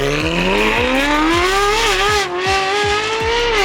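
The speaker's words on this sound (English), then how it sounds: "that F1 exhaust sounds wild, bro" A high-revving engine screams loud and close, its pitch rising and falling through rapid gear changes, with the rasp of a sharp exhaust.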